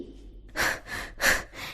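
A voice imitates a cartoon squirrel panting in a children's story, with three or four heavy, breathy pants in quick rhythm, close and fairly loud.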